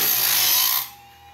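A homemade bandsaw blade sharpener grinds with a loud, harsh, high whirring rasp that cuts off abruptly after under a second, leaving a low residual motor hum.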